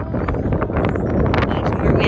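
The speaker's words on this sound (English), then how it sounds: "There's more wind on this side." Wind gusting steadily against the microphone outdoors on a coastal road trip near colorful houses and a lighthouse, a continuous broad rushing buffet that swells slightly over about two seconds.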